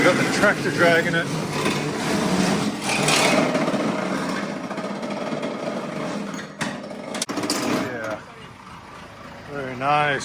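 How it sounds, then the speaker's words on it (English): A tractor engine drones steadily as it drags resin-filled car wash equipment, heard under ongoing talk by several people, with a few sharp knocks toward the end. "We've got the tractor dragging it."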